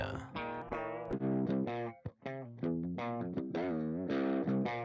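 Heavily distorted, effects-laden electric guitar tones ring out in sustained, loud phrases through a range amp, with a brief drop near the middle.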